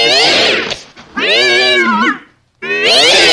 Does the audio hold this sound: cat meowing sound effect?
yes